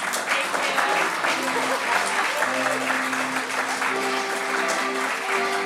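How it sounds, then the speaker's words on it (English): Applause at a solidarity event for democracy and Ukraine, steady clapping from an audience mixed with sustained tonal music or voices running underneath throughout. "a big round of applause for our Master of Ceremony"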